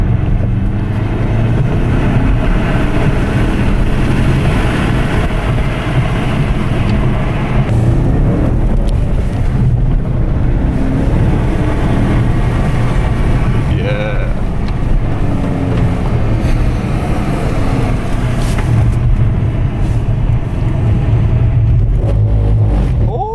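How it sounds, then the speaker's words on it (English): A Porsche Panamera Turbo's turbocharged engine roars loud and steady while driving on slick roads, with rushing air from the boost and rising, falling revs; faint voices surface briefly. "I love the sound of just a lot of boost going through an engine and just air being pushed"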